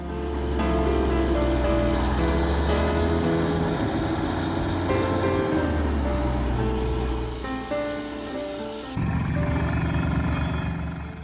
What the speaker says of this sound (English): the team set up and started drilling straight into the spot recommended